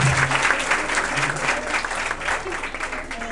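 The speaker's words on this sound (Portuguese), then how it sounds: "deu uma salva de palmas" A burst of clapping from a group, dense and steady throughout, with a voice briefly audible underneath.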